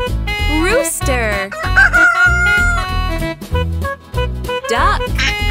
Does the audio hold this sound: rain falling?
no